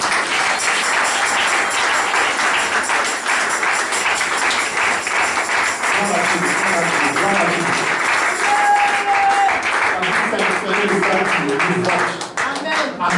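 A church congregation applauds the Lord with sustained, dense clapping that fills the space, steady and loud, while voices and music carry on beneath it.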